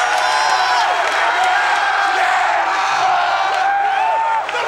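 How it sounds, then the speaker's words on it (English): Basketball arena crowd of Penn State fans at a home game against Indiana, roaring and cheering in a sustained, dense wall of noise with scattered whoops, steady and loud throughout. "State fans, they've been standing the whole game, now have something to cheer about"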